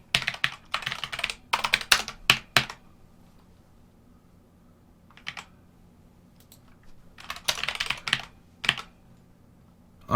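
Rapid bursts of typing on a Bloody Light Strike keyboard with optical switches, close and crisp, with dense clatter at the start, a long pause, then another flurry of keystrokes near the end.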